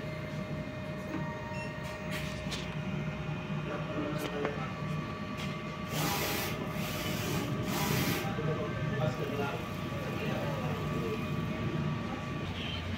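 A DTF printer runs a nozzle test, its print head shuttling with a steady mechanical whir and faint whine, plus a couple of brief louder hissing bursts midway, all heard close and alone.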